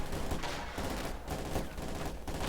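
Sustained MG42 machine gun fire in the strategy game Company of Heroes 2, dense rapid bursts with short pauses between them, set against the muffled din of battle.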